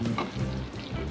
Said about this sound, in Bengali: রসুনটা ভাজা হয়ে গেছে, গন্ধ উঠতে শুরু করেছে রসুন ভাজা